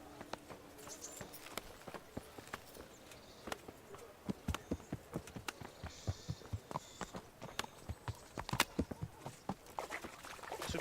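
Horse hooves clip-clop in the video game Kingdom Come: Deliverance, a steady series of light, close hoof strikes over a quiet ambient background throughout.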